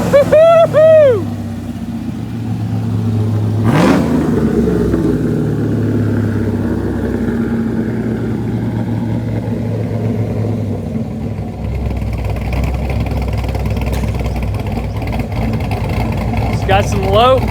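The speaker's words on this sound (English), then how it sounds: "Rev it up." A modified car engine with an aftermarket cam revs in short, loud bursts and then idles with a low, lumpy rumble, while people cheer and talk over it.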